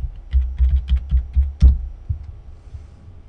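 Keystrokes on a computer keyboard entering a command at a command prompt, about a dozen close, crisp clicks in an uneven typing rhythm, louder in the first half and then thinning out.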